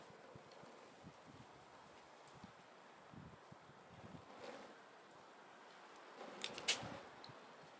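Soft, low wind buffets the microphone outdoors in faint gusts, with light rustling and a slightly stronger gust near the end.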